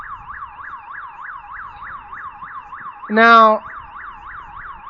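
A wailing siren cycles up and down in a fast, regular rhythm outside a consulate at night, with someone briefly speaking over it partway through.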